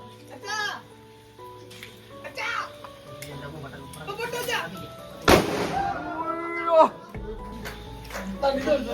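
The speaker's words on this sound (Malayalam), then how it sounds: "പടക്കം കൊണ്ട് ഓടിക്കുകയാണ്" A firecracker set off on a wall bursts with one sharp bang near the middle, among children's voices and chatter, with another loud pop shortly after and a low hum beneath.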